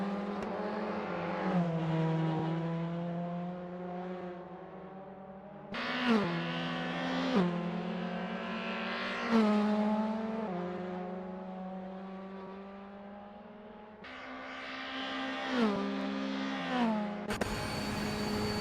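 A Toyota GR86 race car at Sebring International Raceway in Assetto Corsa, its engine droning and rising through the gears in repeated climbs, each ending in a sharp shift and further acceleration, with no talk.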